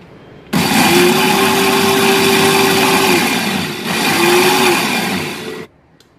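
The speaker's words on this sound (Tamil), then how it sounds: "இப்போ இதை ஒரு 1 மினிட் போல் மிக்சியில் அடித்து எடுத்துக்கலாம்." A mixer grinder whirs loudly while blending mint mayo with olive oil, running in two bursts with a short dip between them and a steady high-pitched motor whine, then stopping.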